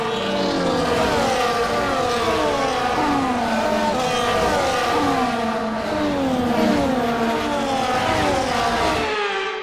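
Several F1 24 cars idle and rev through the formation lap at the Saudi Arabian circuit in Jeddah, a dense layered engine whine with rising and falling pitch sweeps, loud and continuous throughout.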